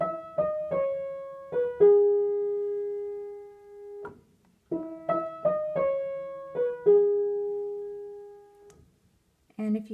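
A piano plays the right-hand melody of a song's intro, two matching phrases of a few quick notes each ending on a long held tone, played alone and clearly with a pause between.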